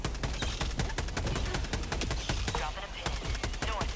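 Dense gunfire and explosions in the Helldivers 2 game, rapid loud bursts of shots in a continuous rattling barrage with heavy thumps, close and relentless throughout.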